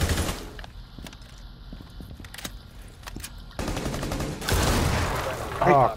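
Rapid bursts of gunfire from a suppressed weapon in the tactical shooter Rainbow Six Siege, a cluster of sharp shots that thickens into heavier, louder firing toward the end, with players' voices talking over parts of it.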